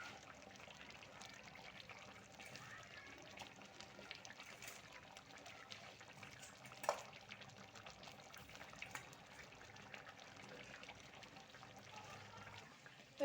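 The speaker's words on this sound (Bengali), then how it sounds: "তো ওটা ধুয়ে আমি জলটা দিয়ে দেবো এখানে।" Water poured into a pan of fried gravy while cooking a fish dish, a soft, steady trickle and splash at low volume, continuous for several seconds with no talking.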